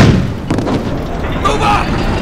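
A tank cannon fires in the Steel Fury Kharkov 1942 combat game, an M4 Sherman setting, giving a heavy booming report with rumbling tail under a shouted voice.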